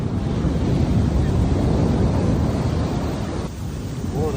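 Ocean waves crash and wash up on a beach as a loud, continuous roar of surf mixed with heavy wind rumble, easing slightly near the end.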